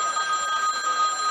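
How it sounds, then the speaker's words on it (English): A mobile phone ringing up close with a steady, bright electronic ringtone that fills the whole moment, no voices over it. "Whose phone is ringing?"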